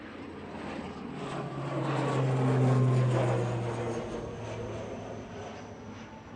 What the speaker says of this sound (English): Aer Lingus Regional heading back to Belfast here.